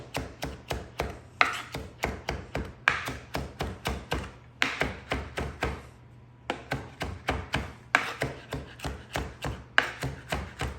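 A knife minces food on a cutting board for potato soup in rapid, even chopping taps, close and crisp, arriving in quick runs with a brief pause between batches and no voices.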